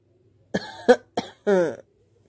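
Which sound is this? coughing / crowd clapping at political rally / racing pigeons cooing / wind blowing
coughing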